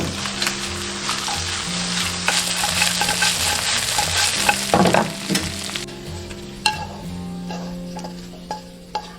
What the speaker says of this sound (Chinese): 然后下入炸好的茶叶，撒上适量椒盐，然后翻炒均匀。